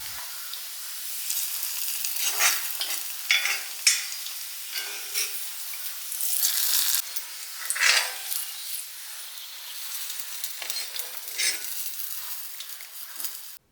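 Shallots frying in coconut oil in a large pan, a close crackling sizzle with repeated bursts of spitting and stirring scrapes throughout, no talking.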